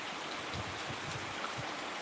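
Light rain falls in Solapur district, a soft, steady wash of hiss with a few faint low patters, quiet and even with no voices.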